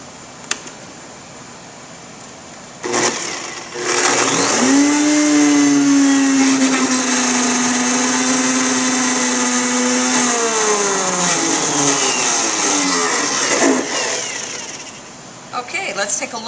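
A loud immersion blender pureeing strawberries whirs steadily for about ten seconds, its motor pitch dipping as it churns, then winds down to quiet.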